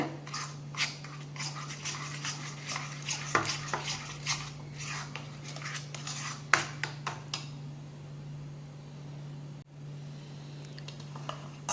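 Salt being stirred into a masala paste, with a spoon scraping and tapping against a metal vessel in irregular close strokes over a constant low hum, the tapping thinning out toward the end.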